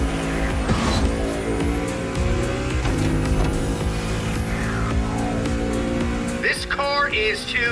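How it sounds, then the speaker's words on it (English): Car engine revving in The Crew Motorfest racing game, loud and sustained under a dense mix of game sound, with tire squeal and a car rushing past near the end. "This car is too fast."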